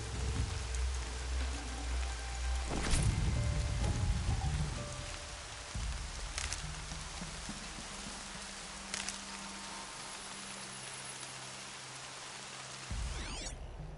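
Steady rain falls across an open landscape in the video game Horizon Zero Dawn, a dense hiss of drops with rumbling low tones and a few sharp, brief cracks standing out above the downpour.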